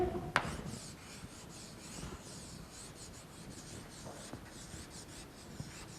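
A teacher writes on a classroom board: faint, scratchy rubbing strokes in short runs, opening with a sharp knock.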